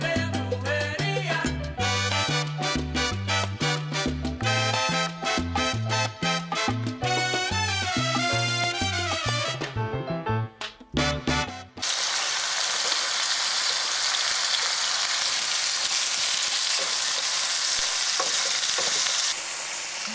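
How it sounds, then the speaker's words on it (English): Ground beef sautéing in a pan for taco night, a loud steady sizzle with stirring scrapes that takes over after an opening stretch of music and keeps going alone to the end. "we're gonna saute the beef, and we're gonna have a nice beef sauteing montage"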